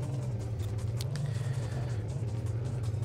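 A truck in the video game Hard Truck: Apocalypse drives along a road, its engine a steady low droning rumble with no speech over it.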